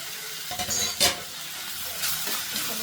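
Mushrooms frying in a pan with green chillies and coriander, a steady sizzle broken by a few stirring scrapes and one sharp clack of a ladle against the pan, no talk.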